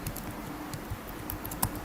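Computer keyboard keys are tapped for spreadsheet shortcuts, giving soft, close clicks in a loose irregular patter with a few sharper strikes, and no voice.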